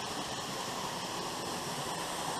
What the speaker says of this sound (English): and look at the waterfall.